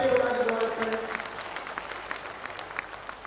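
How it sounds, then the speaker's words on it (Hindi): A crowd claps at a political rally held at a public gathering in Nirajpur, Sanwer. The applause is steady and moderately loud, with a voice over it at the start before the clapping continues on its own. "जोरदार ताली बजाकर स्वागत करें।"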